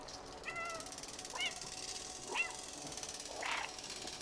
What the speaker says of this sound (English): You have to spin around in circles while meowing.